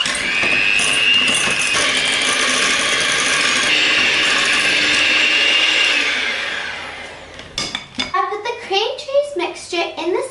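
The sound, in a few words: beating cream cheese, garlic and chives together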